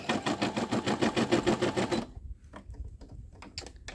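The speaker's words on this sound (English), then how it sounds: "I'm gonna let the J and the O stitch out" A small embroidery machine stitches the letters J and O onto a baby blanket with a rapid, steady mechanical chatter for about two seconds, then stops, leaving faint scattered clicks.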